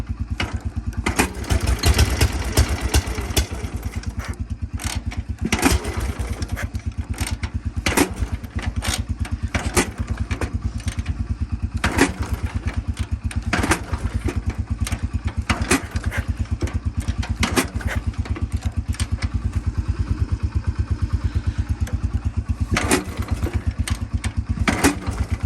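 A 60-year-old Cushman motorcycle engine sputters and chugs during a cold start attempt, loud, rapid uneven firing pulses with occasional pops and revving, running continuously and close up with no talking.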